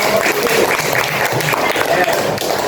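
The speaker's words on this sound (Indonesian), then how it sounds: "Kasih tepuk tangan." Applause breaks out in a primary school classroom after a group presentation, a dense stretch of clapping from many pupils, loud and close, mixed with the murmur of voices throughout.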